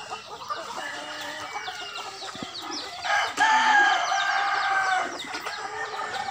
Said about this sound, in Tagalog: Sobrang dami na mga kimortal, lalaki na mga manok.